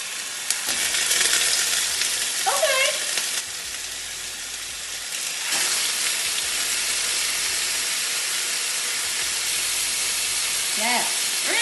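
Marinated salmon with garlic laid skin-down in a hot pan gives a loud, steady frying sizzle and hiss that fills the whole stretch, with a few faint chirps over the top.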